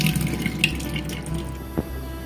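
Cold tap water rinsing boiled Maggi noodles, with a continuous running splash from a faucet into a sink and a small drip or knock near the end, heard alone and close.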